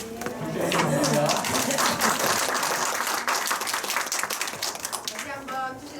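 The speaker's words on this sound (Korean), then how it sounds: "다시 한번 2시간 반 동안 연락해주신 이관수 집사님께 큰 박수 부탁드립니다" A crowd applauding after a lecture on vegetarian eating, dense continuous clapping from the start that thins into scattered claps toward the end, with a voice over it.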